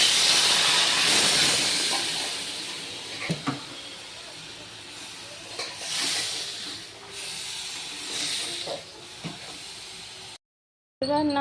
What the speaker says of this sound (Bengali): এবার নাড়াচাড়া করে নেব মাংসটা। কষাচ্ছি আর কি, কষানো হচ্ছে।